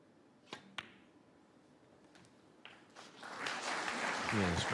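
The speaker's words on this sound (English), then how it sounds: "smattering of applause" A smattering of applause rises from a snooker crowd at the Welsh Open semi-final, building from a few scattered claps into steadier clapping that swells toward the end, preceded by a couple of sharp isolated knocks.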